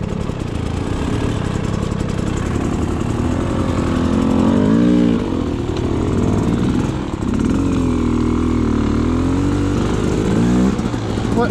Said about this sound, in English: Let Marty try out my bike, the suspension on it.